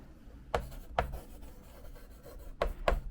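Pen or pencil drawing a graph by hand, a few short scratchy strokes in two pairs separated by a pause, close and quiet.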